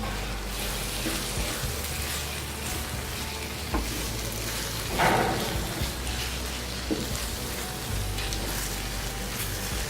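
Egg and onion scramble frying in a hot pan, with a steady close sizzle broken by a few scraping spoon stirs and light clatter, no talking over it.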